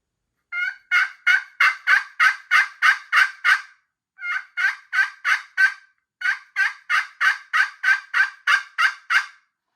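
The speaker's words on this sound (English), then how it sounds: "we'll transition to a little bit louder yelps." Louder, rasping turkey yelps from a Woodhaven Fusion ceramic pot call in three steady runs of rhythmic notes, clear and close with brief gaps between series.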